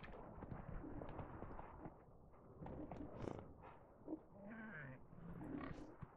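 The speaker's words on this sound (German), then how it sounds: "Ach, das sind die Schweine." Pigs grunt and snort in The Witcher 3, low rough oinks scattered over a busy game soundscape of thuds and clatter, fairly faint overall.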